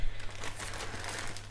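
Close, soft crinkling and rustling as a plastic bag is crumpled and pulled away in a garden, continuous and fairly quiet with a low background hum.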